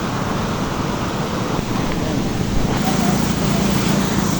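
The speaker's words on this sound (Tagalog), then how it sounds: "Narinig nyo naman po tayo ng agos ng tubig." Flowing stream water rushes continuously close by, a broad steady wash of noise that stays loud throughout with no pause.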